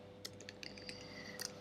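Quiet typing on a computer keyboard: a few scattered, light keystroke clicks, close but faint.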